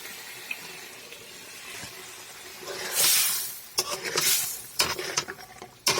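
Chicken pieces go into a pan of hot oil with fried spices and bay leaves for a chicken and flat-bean curry, setting off loud bursts of hissing spatter after a quieter simmering start.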